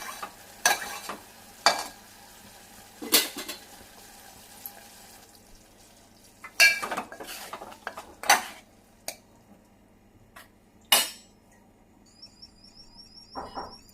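Clatter of a spoon and pot as cooked vegetable curry is scraped off the stove into a bowl, several sharp metallic knocks and scrapes spaced through a quiet kitchen.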